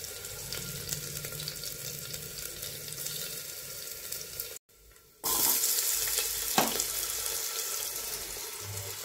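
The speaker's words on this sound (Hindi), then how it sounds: "यहाँ पे मैंने ऐड कर दिया है जीरा 1 चम्मच और 1 चम्मच डाल दिया लहसुन का पेस्ट। और इसको अच्छे से भून लेंगे" Cumin seeds and garlic paste fry in ghee in a cooking pot, a close steady sizzle that drops out briefly midway and then returns louder, with no talking.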